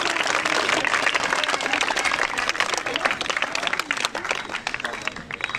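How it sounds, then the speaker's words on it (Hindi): Thunderous audience applause from a seated crowd: dense, loud clapping that runs continuously and evenly for several seconds, close and full, with no voices over it. "गड़गड़ाती ताली, गड़गड़ाओ"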